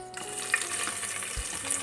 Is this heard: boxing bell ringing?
no